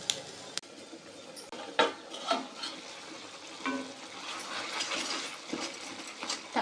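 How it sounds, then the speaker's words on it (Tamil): Soya chunks with chicken masala frying in oil, a steady close sizzle with occasional stirring scrapes and light clinks of the utensil against the pan. "இது எண்ணெயிலே நல்லா ஃப்ரை ஆகிட்டு இருக்கட்டுங்க"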